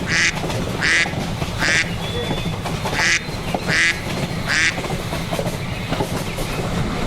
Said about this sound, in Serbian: Patka.